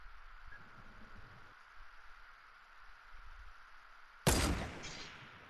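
A sniper rifle shot in the Fortnite video game: one loud, sharp blast with a trailing echo, after several seconds of low, murmuring game ambience.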